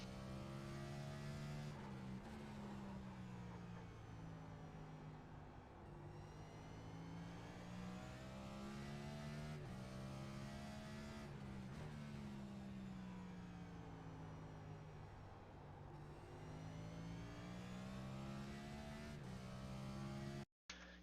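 A race car engine drones loud and steady on a quiet qualifying lap around Martinsville in the iRacing sim, pitch swelling and sagging through each turn before cutting off abruptly near the end.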